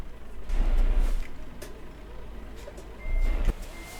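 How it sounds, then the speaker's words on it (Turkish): In Euro Truck Simulator 2, a truck engine starts with low rumbling surges, one early and another near the end, over a quieter idle, with no talking. "Arkadaşlar aracımızı çalıştıralım."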